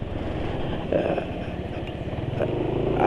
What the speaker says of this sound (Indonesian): Tapi suara mesin kasar ya, dibanding dengan ketika pakai Valvoline XLD kemarin